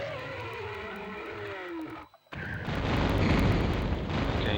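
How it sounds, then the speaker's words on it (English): An Atlantean mutant blows up in the PS1 Tomb Raider video game: engine-like hum cuts out briefly, then a loud booming explosion erupts into a sustained crackling roar. "when he dies he explodes like the other Atlantean mutants"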